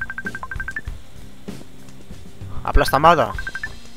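Phone ringing in the video game Paint The Town Red, a repeating electronic ring tone of short tonal bursts heard amid game noise, with someone talking over it and a louder burst of game action near the end.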